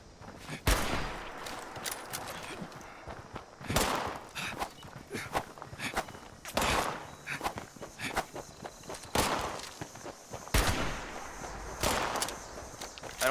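Gunfire from a gun in the video game Fallout 76, heard as several loud sharp reports spaced a second or two apart over a busy background of in-game movement and footsteps.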